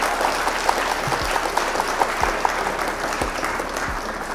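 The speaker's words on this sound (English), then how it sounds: "Round of applause for our opponent." Steady applause from a crowd, dense clapping that carries evenly through the whole stretch without voices on top.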